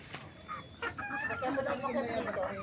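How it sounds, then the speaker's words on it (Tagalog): Several chickens clucking and squawking close by, with overlapping calls through the whole stretch and a busy farmyard background. "Ang dami ng manok."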